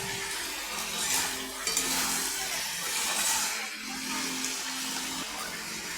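Spice masala with green peas being stirred and sautéed in a pan for a Bengali vegetable fish curry, a steady low sizzle with soft scraping of the spoon throughout, close and moderately loud.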